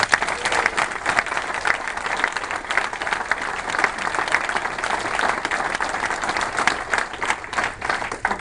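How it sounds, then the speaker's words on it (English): A room full of people applauding a class, dense steady clapping that holds at an even level throughout without a break. "let's give the class one more round of applause"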